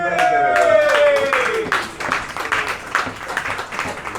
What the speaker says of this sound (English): Roar of applause.